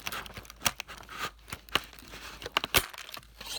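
Quiet, sharp snips and crinkly clicks come in an irregular series as scissors cut through small wiry twist ties on toy car packaging, close up.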